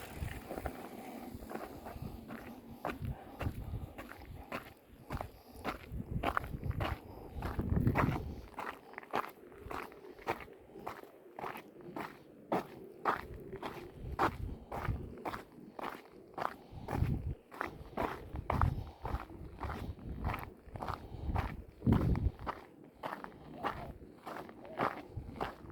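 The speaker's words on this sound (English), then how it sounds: "The only thing I think about is my next footstep." Footsteps of a person walking outdoors, a steady crunching tread close by, continuing for the whole stretch with occasional faint rustles.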